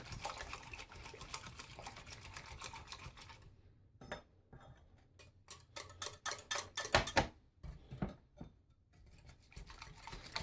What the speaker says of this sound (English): It's easier with a little hand whisk.